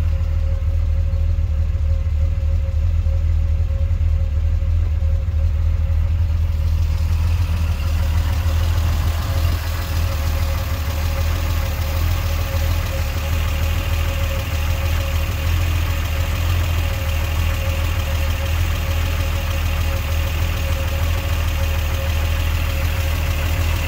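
Triumph TR6 six-cylinder engine with triple SU HS6 carburetors idling steadily after a cold start, a loud continuous low rumble with an even pulse and a slight tick, running alone without talk throughout.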